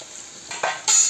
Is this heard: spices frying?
yes